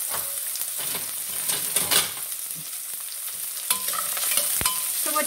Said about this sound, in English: you're trying to cook this onion just a little bit so the raw taste and everything will go away